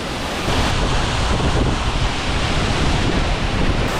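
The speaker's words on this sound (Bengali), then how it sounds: "আমার পিছনে এটা হচ্ছে সে ঝর্ণা" Rupse waterfall in Mustang, Nepal, a huge cascade heard from very close with spray blowing over. It gives a dense, unbroken roar of rushing water that stays loud and steady throughout.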